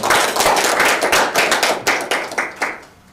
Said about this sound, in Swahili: Tuweze kumpigia makofi mazuri tafadhali kwa.